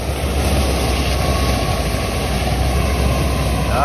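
A camper van engine revs hard and steadily while the van sits stuck in soft sand on a Spanish free-camping spot, with a loud, continuous low rumble.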